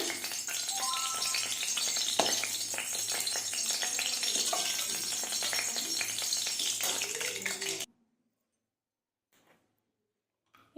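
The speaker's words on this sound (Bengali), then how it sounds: "চালটি ভাজতে হবে তো ঘি দিয়ে ভাজবো" Rice frying in ghee in a pan, a steady dense sizzle with occasional stirring clatter for about eight seconds, then cutting off abruptly to near silence.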